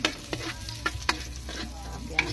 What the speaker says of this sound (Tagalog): Gisa sa sardinas.